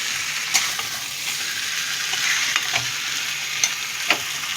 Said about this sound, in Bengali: সবজি, ছানা, টমেটো সব ভাজতে ভাজতে আলুটা সেদ্ধ হয়ে গেছে।